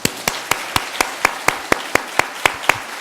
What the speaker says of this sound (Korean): 한번 우리 같이 한번 격려의 박수